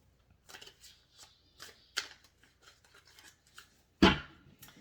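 Tarot cards being handled and cut on a reading table: a run of soft, quiet papery slides and taps, then one sharper, louder riffling snap near the end as the deck is cut.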